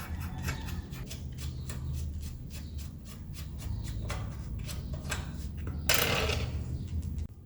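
A ratchet with a 12 mm socket loosens the brake rod nut on a motorcycle, giving a steady series of quick, close clicks that repeat in a regular rhythm, with a brief scraping rustle near the end.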